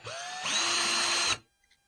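A power drill bores a pilot hole into a wooden desk for a screw while fitting a pullout keyboard tray, its motor whining and rising in pitch as the bit bites, then cutting off abruptly, close and loud with no talk.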